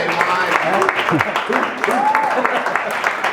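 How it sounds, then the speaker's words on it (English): Audience applause at an RAF nutrition seminar as a presenter is introduced: a loud, steady patter of clapping throughout, with voices and a whoop or cheer mixed into it. "Let's give him a round of applause."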